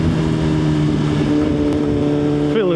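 A Suzuki GSX-R1000 sport bike engine runs steadily and loud throughout, a constant harmonic drone with a brief rev shift near the end, no talk over it.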